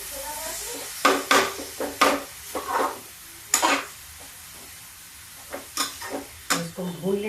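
Chunks of raw green pumpkin stir-fried in a pan for halwa, with repeated loud spatula scrapes and clanks over a low sizzle, in irregular bursts separated by quieter gaps.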